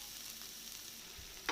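Onions sauté in a pan for a clam meat roast, giving a faint, steady sizzle that runs alone and unbroken, with a brief louder scrape at the end.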